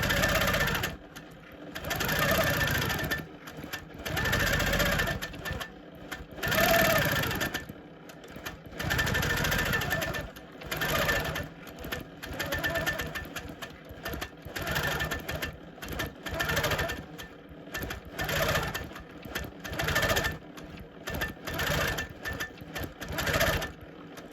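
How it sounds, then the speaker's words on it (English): Sewing machine stitching matchstick free-motion quilting lines for a Christmas presents design, running in repeated bursts of rapid needle chatter separated by short pauses, close and steady. "then it's on to the matchstick quilting, both vertically and horizontally."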